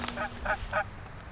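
White-fronted geese, speckle bellies, honk during a hunt, three clear calls in quick succession, fairly close, over quiet outdoor background with no talk.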